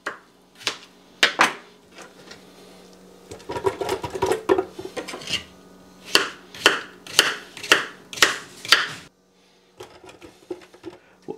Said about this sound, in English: So I just cut them into some chunks and we'll just throw them right in.